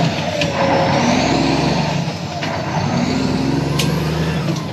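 A truck engine idles steadily on a cool morning at a creek-cleanup job site, a loud, close diesel rumble with brief hissing bursts throughout.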